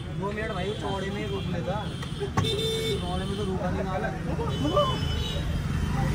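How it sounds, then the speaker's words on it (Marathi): Busy street traffic in Haridwar, India, heard from an electric bike, with a car horn tooting, voices talking over the steady road noise close by. "इकडे ट्रॅफिक आहे"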